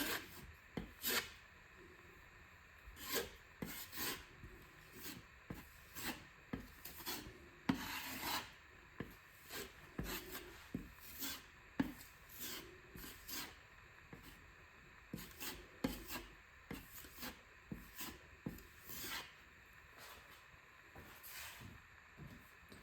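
Metal putty knife spreading and scraping drywall joint compound over a wall patch, a series of soft rasping strokes, intermittent and close, with short pauses between passes and no talking.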